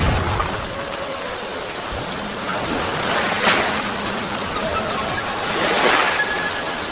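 Steady heavy rain hisses around a boat in a storm in an animated telling of The Three Princes, with a constant wash of downpour and faint swells rising and falling, no talking.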